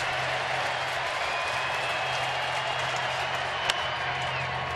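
A large home baseball crowd at Minute Maid Park in Houston, deflated during a game against the Cardinals, gives off a steady, distant murmur and roar throughout, with one brief sharp crack near the end.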